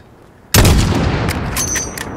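A single sniper rifle shot fires in Call of Duty Modern Warfare (2019): a sudden loud blast followed by a long, rolling echo that decays slowly across the distance.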